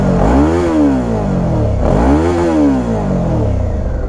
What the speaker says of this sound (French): on va écouter le pot. D'origine d'une Vestrom 650